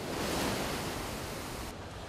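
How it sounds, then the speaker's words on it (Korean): Ocean surf at a Korean beach where surfers gather, a broad, steady wash of breaking waves rushing close and loud, with no voices over it. "오, 파도 좀 있다."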